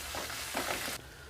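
Onions frying in a pan, a soft continuous sizzle with faint stirring movement, close but fairly quiet, briefly dropping in intensity near the end.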